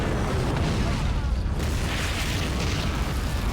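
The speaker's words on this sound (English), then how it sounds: "But artillery, go on more. Just throw more artillery on them." Artillery shells landing across a battlefield of plastic army men in Army Men Battle Simulator, a sustained rumbling barrage of overlapping booms, steady and loud, with a faint voice underneath.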